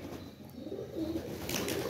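Pigeons let out of their coop coo softly and steadily at a moderate distance, under a constant murmur of outdoor background noise.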